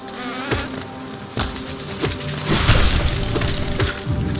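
Big bee enemies in the Hollow Knight hive drone and buzz continuously, loud and close, with scattered cracking and smashing impacts from combat mixed in and no talking.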